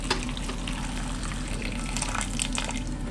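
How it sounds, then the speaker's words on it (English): Water poured over fruit in a pan while making banana jam, a steady continuous splashing pour at close range with no talk. "I'm going to put in enough water to cover"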